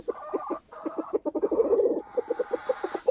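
A rooster in a chicken breeding pen makes a rapid series of soft, low clucks and purring calls, the kind used to call hens to a treat, close and steady for about three seconds with no talking.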